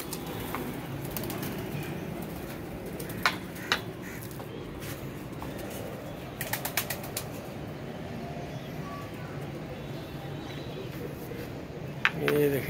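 Pigeons flushed from a net into flight, with bursts of wing flapping and occasional coos over a steady outdoor background, along with brief faint voices.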